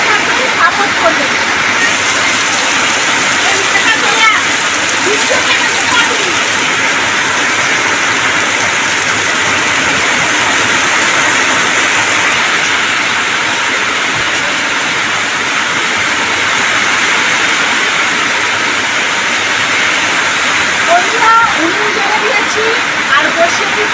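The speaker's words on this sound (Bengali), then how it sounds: "আর প্রচুর বৃষ্টি পড়েছে, বৃষ্টি কিন্তু একদম ভর্তি হয়ে গেছে।" Heavy rain falls steadily and loudly for the whole stretch, a dense broadband roar like pouring water, at an outdoor village cooking spot where a chicken and potato curry is being made.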